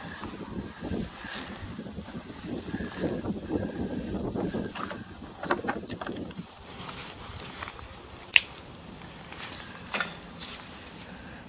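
Gusts of wind buffet the microphone outdoors at a campsite with a small fire, rising and falling in bursts with occasional sharp knocks.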